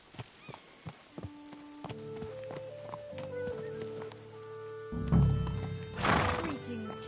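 Horse neighs and whinnies in Kingdom Come Deliverance II, a medieval game played on PS5 Pro, with sharp hoof clip-clops at the start, then a long tonal whinny and a loud snorting burst near the end.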